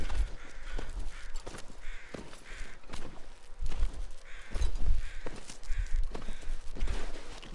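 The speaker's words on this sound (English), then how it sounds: "And those birds flying overhead, man, that doesn't bode well." Crows cawing overhead in The Long Dark video game, a run of harsh repeated caws at a steady rhythm over a low rumbling wind-like backdrop, moderately loud and with no talk.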